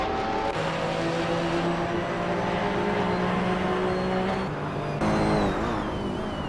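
Race cars roar in an AI car racing video game, a dense continuous engine drone with sustained high-pitched tones that shift as cars pass and change gear, loud and without speech.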